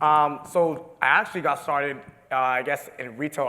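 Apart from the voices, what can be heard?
None of the usual background noises is heard.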